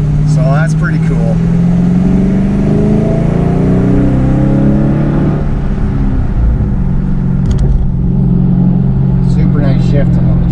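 A 2019 Dodge Charger SRT 392 Scat Pack engine revs and climbs in pitch as it accelerates, the exhaust note loud and close, with a steady drone throughout.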